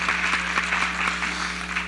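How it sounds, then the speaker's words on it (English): Scattered clapping from an audience at a nonprofit symposium, soft and steady with a continuous low hum underneath, no voices over it. "Let's everybody clap it up for 3:07 p.m."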